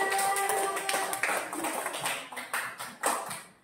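Classroom of students claps briefly for a classmate, a soft, scattered patter of small hands that quickly tapers off.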